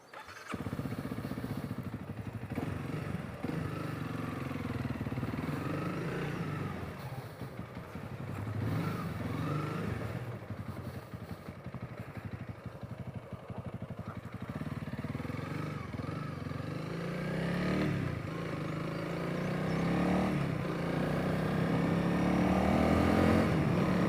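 A Honda CRF300L dual sport motorcycle rides off: a steady, moderately loud single-cylinder engine drone that rises and falls with throttle and gear changes, continuous with no talking.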